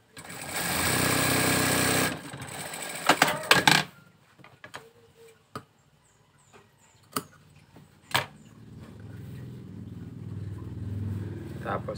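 A sewing machine stitching a trouser pocket runs loud and close for about two seconds, then stutters in a short burst. Sharp handling clicks follow, and a low murmur sits underneath toward the end.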